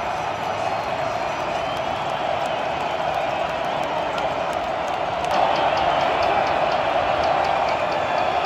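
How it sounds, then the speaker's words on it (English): Crowd noise fills the stands at a Cal versus UNLV college football game, a steady dense roar that swells louder near the end as cheering builds, with no distinct voices standing out. "The crowd feeling it."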